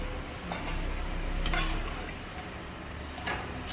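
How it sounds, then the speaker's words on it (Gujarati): Soft, steady sizzling of bitter gourd frying in oil, with a few light clinks of a utensil stirring in the pan. "કારેલા બી બ્રાઉન થયા ત્યાં સુધી તળશું"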